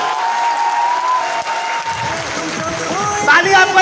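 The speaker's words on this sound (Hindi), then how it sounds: "और जोरदार वाली तालियां।" Loud audience applause fills a hall, a dense sustained patter of many hands clapping steadily throughout, swelling slightly toward the end with a few brighter tones mixed in.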